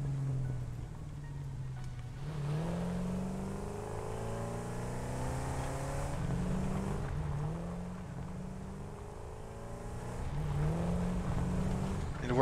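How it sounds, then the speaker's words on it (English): Vehicle motor in the Satisfactory video game, a deep steady engine drone rising and falling as it revs and shifts, moderately loud and continuous with no speech. "By the sound of the motor, I was trying to discern what motor that is."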